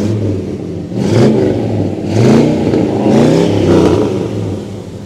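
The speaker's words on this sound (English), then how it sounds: "Rev the engine." A 1950 Mercury hot rod's V8 engine revs repeatedly, rising and falling in several surges with a deep rumbling idle between them, loud and close.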